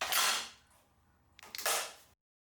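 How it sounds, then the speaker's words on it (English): Charging handle of an M2-SLR self-loading rifle pulled all the way to the rear: two sharp, close metallic rasps about a second apart, with near silence between them and no talking. "From there, you'll grasp your charging handle, pull it all the way back to the rear, make sure that your chamber is clear"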